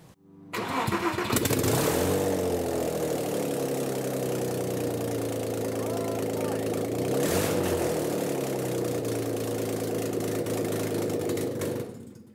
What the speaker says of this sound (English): So we're gonna run this open header